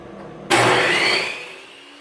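A power saw trims the groove off a homemade hardwood stair nosing. The motor bursts in abruptly and runs loud and close as a whining, hissing roar for about a second, then slowly tapers off.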